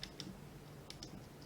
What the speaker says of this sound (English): click just click on the mouse to not cancel it